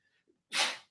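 A single sharp human sneeze bursts out up close after a couple of faint breaths, loud and brief, during a Friday sports talk broadcast.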